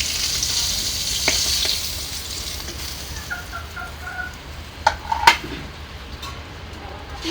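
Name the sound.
chickens fighting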